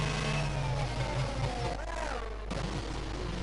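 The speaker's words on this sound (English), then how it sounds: "But the safety car is now coming in." Safety car engine in a Formula racing video game at the Miami circuit, a steady droning engine with shifting pitch and revving tones, continuous and fairly close, a brief dip midway.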